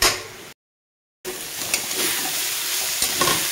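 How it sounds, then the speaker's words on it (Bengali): Dheki fern greens fry in a pan, their water cooked off, giving a bright, steady close sizzle with stirring scrapes; the sound drops out to silence for a moment near the start, then resumes. "এখন আমি ভাজা ভাজা করে নেব শাকটাকে"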